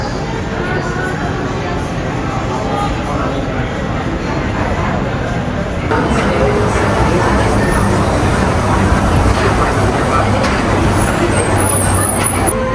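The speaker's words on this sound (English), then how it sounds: "Here comes the monorail." A Magic Kingdom monorail pulls in with a loud, steady rumble and rising rush of motor and track noise that swells partway through, with outdoor crowd sounds around it.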